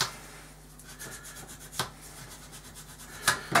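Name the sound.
sanding a model by hand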